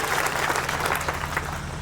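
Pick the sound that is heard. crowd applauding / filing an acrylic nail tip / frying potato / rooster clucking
crowd applauding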